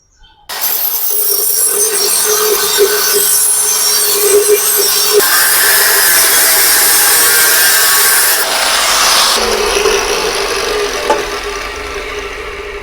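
Cutting a piece for a wood-burning rocket stove: a loud, steady, harsh grinding and cutting noise running continuously for about twelve seconds, with a few shifts in pitch and intensity and no talking.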